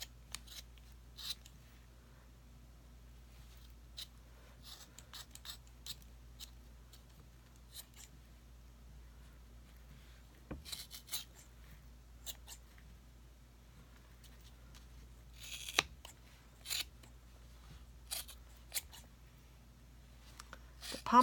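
Scissors snip through wound yarn loops to make a pom-pom, giving sharp, quiet clicking cuts in irregular bursts over a faint steady background hum, with no talk.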